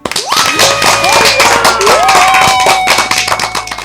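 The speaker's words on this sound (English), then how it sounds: "I think that deserves a bit of an applaud," Close, loud clapping with rising whistles and whoops layered over it, a lively burst of cheering applause that thins and tapers toward the end.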